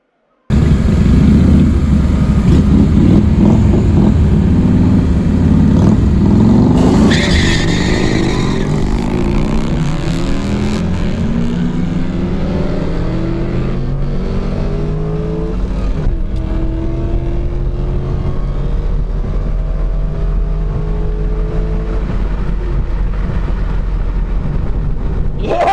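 Chevrolet Corvette launching at a drag strip, a loud, continuous engine roar that climbs through rising gear pulls, heard close with steady wind buffeting the microphone.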